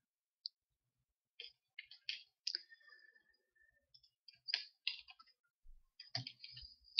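Computer mouse clicking while a Photoshop paint bucket tool fills areas, heard as a scattered run of sharp, close clicks, some spaced apart and some in quick clusters, against near silence.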